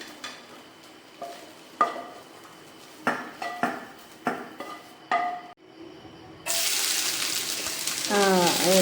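Dog food is moved into a vessel with a series of sharp metallic clinks and scrapes of utensil on pot, followed by a loud steady rush of running water near the end.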